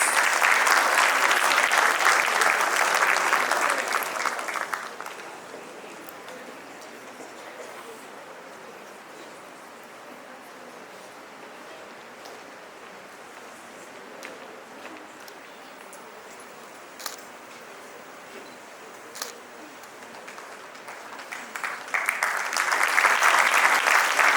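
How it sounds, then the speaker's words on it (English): A burst of crowd applause at a national debate awards ceremony fades out after a few seconds, leaving a quiet room with faint shuffles, then clapping swells again at the end. "Let's applaud her efforts."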